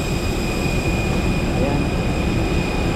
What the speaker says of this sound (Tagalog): itong totoong aeroplano na ito